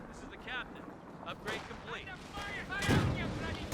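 An artillery barrage fires in the World War II strategy game Company of Heroes 2, with distant booms and crackling shots scattered at low level under game voice chatter.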